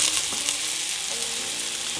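Leeks and salt hitting melted butter in a pan give a steady, close, bright sizzle that stays loud and unbroken, with no voice over it.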